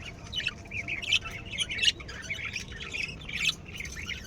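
Budgerigars in a breeding cage squawk and chirp in busy, overlapping bursts, close and moderately loud, with no talking.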